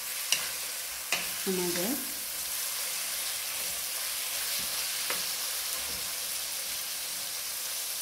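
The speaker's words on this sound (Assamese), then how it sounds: "ইয়াক খুব ধুনীয়াকৈ লৰাই দিব লাগিব যাতে চব হালধি চিকেনখিনি" Chilli chicken coated in turmeric fries in a pan as it is stirred, giving a steady close sizzle with a few scraping clicks, while a voice speaks briefly near the start.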